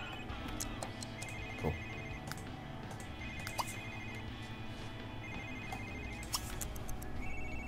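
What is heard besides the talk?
telephone ringing in the video game The Sims 3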